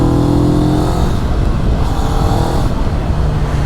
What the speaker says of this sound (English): the bike is making a really fun little ride through these small Devon lanes